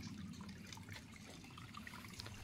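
Natural spring water running down from the mountains makes a faint, steady trickle with small splashy flickers, quiet and distant-sounding, without any speech.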